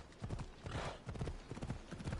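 A horse gallops in Assassin's Creed Odyssey, its hooves beating a quick, steady clip-clop rhythm at low volume, with a short snort or whinny mixed in partway through.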